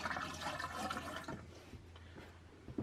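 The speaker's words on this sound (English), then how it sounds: "you pour enough down there to drive the water out of the P-trap and replace it with the RV Antifreeze" RV antifreeze poured down a drain to push water out of the P-trap, a short gurgling liquid rush that trails off into drips, close and fairly quiet.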